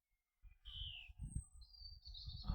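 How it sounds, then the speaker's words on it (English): A song thrush sings on an English evening in East Sussex, a few short, clear whistled phrases, fairly faint and distant, over low rumbling background noise. "That it does suggest that's not a blackbird, but a song thrush."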